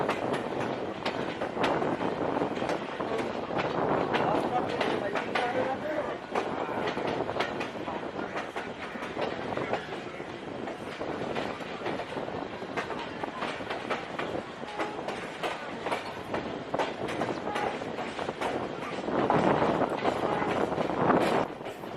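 Green Line express train of Pakistan Railways rolling along the tracks, a steady loud rumble with rhythmic clickety-clack of wagons and some wind buffeting, continuous and close throughout.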